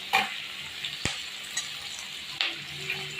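Chopped carrots going into onions already frying in a pan for sambhar, with steady close sizzling and a few sharp stirring knocks and clatters against the pot.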